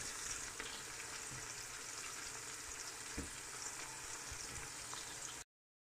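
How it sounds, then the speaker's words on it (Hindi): Onions frying in a pan on a stove, a steady broadband sizzle with occasional soft pops and stirring bumps, heard close and alone without speech. "प्याज हमारे जो रेडी हैं और फ्राई होने शुरू हो गए हैं"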